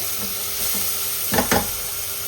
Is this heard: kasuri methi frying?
yes